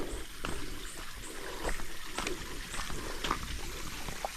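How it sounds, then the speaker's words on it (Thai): Water trickles and splashes down a rocky mountain slope near a small rock shelter cave, a steady close babbling with faint scattered clicks and no talking. "ก็จะเป็นทานน้ำไหลนะครับ ไหลลงมาจากภูเขานะครับผม"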